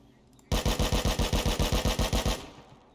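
Rust video game gun firing a rapid burst of about fifteen evenly spaced loud shots over two seconds, sharp and close, then stopping.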